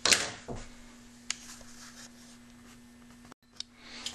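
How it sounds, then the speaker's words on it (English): A knife slices through wood inlay banding, giving a brief scraping cut followed by a few faint small taps and scratches close by in a quiet room. "cut it with a knife."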